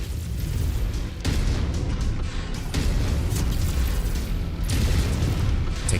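Heavy missile and artillery explosions rumble in a mech combat video game, deep booming blasts rolling continuously with sharp onsets around one and a half and four and a half seconds, loud and dense, without talk.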